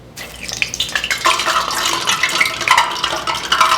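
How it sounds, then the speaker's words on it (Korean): Steady crackling sizzle of hot oil in a pan as chicken thighs deep-fry, dense and close, with bursts of popping spitting throughout. "이렇게 지글지글하고 바로바로 이렇게 올라오면은 이 정도면 되는 겁니다"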